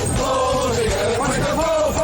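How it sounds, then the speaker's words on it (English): Football stadium crowd cheering an Argos first down, a continuous roar of many voices from the stands, steady and loud across the whole stretch with a broad rumbling wash. "This is just straight up cheering."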